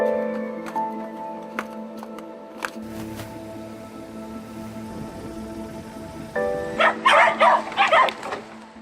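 Hungry dogs on an island gathering and rushing toward food, with scattered barks and yelps that build into a cluster of sharp, louder barking near the end over a low outdoor background.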